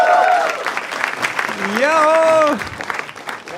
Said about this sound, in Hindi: जोर तालियां हो जाए पैनल के लिए